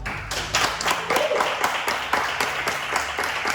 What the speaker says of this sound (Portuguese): Eu queria pedir para vocês um aplauso aí.